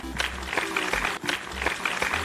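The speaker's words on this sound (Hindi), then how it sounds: "एक बार जोरदार तालियां हो जाए इसी बात पे।" Cheering applause sound effect in a Hindi animated quiz-show spoof, clapping in bursts with short gaps, fairly faint and with no speech over it.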